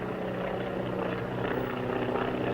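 A 1930s propeller airplane passing overhead in wilderness, heard as a steady, droning engine hum with a low throbbing tone, continuous and moderately loud throughout.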